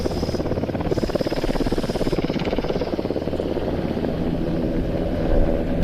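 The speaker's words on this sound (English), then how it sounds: "Landing gear extended, the aircraft in the hover at show centre." A Lynx Mark 88 anti-submarine helicopter hovers at show centre during an air tattoo, its rotor chop and turbine whine steady, loud and close throughout with no break.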